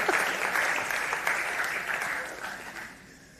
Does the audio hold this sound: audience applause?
yes